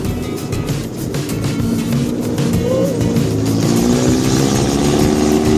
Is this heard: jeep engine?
yes